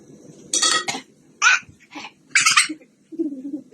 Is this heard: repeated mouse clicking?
no